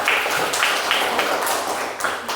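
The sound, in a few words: audience applause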